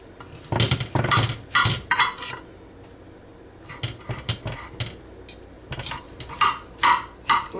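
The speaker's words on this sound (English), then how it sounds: "Of course, you can't cut through the bone, but like I say, I'm trying to cut through the bone" Cutlery scraping and clinking against a dish while cooked pork ribs are cut up on a plate, a run of close, sharp knife-on-plate knocks and scrapes in bursts with quieter gaps between.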